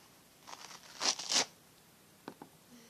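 Hard plastic packaging for homemade squishy supplies torn open in a few short crackling bursts, the loudest around the middle, followed by two faint clicks and quiet.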